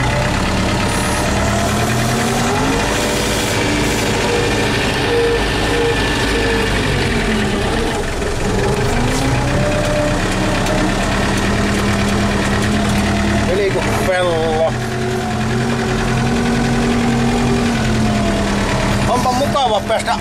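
An old Finnish Valmet Taavetti tractor engine idles steadily with a low, throbbing knock and rattling vibration, loud and near throughout, with a brief clatter midway.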